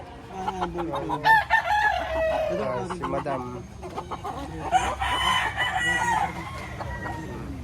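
Chickens at a live poultry stall in the Lipa public market, with a rooster crowing and hens clucking up close amid busy market bustle, while people talk over and between the calls.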